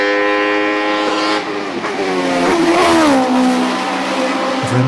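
Mercedes 190 hillclimb race car with a loud, close engine holding a high, strained rev that dips and climbs again, continuous and raw.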